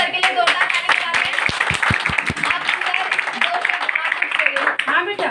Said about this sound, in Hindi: तो चलिए सब मिलकर एक बार सर के लिए जोरदार ताली बजाते